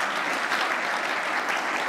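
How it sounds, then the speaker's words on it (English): Audience in a lecture hall breaking into steady, dense applause, many hands clapping together at an even level for the whole stretch. "Round of applause."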